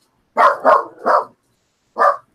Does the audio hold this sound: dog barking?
yes